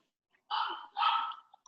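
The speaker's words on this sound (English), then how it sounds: "There goes my puppy." A puppy gives two short barks or yelps in quick succession, fairly close and moderately loud, followed by a couple of faint sniffs or small noises, with no talking over it.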